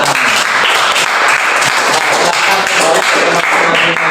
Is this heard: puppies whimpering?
no